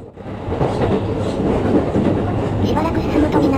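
A train runs on the Joban Line in Japan, likely a former Tokai Transport Service 200-series car, giving a loud, steady rolling rumble with faint clickety-clack throughout.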